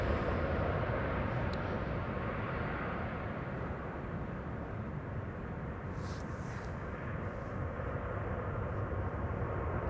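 A KLM Boeing 737 airliner arrives at Amsterdam Schiphol, a steady broad jet roar held throughout at moderate distance, without voices.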